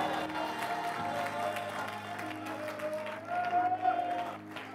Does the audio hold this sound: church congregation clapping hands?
yes